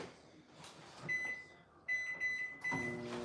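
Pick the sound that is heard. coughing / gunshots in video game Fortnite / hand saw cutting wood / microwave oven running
microwave oven running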